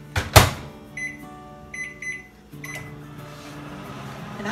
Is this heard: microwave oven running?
yes